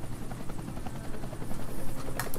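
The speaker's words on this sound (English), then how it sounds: "I hear a helicopter. I hear a helicopter." A helicopter's rotor thumps in a steady, pulsing rhythm, close and loud, filling the whole stretch with no talking, in the video game Deadlight.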